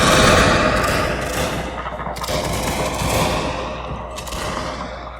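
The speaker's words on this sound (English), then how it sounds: "Now they're gonna open fire with a volley." Musket volleys in a Shogun 2 Total War battle, Prussian line infantry firing from a hill: rolling, crackling gunfire from many muskets, loud and continuous with overlapping bursts and distant thuds, with no talk over it.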